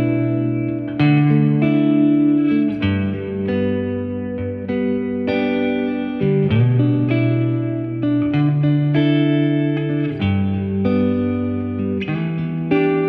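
Electric guitar played through a plate reverb pedal, sustained chords and single notes ringing out with a smooth, lingering wash of reverb, loud and continuous with no talking.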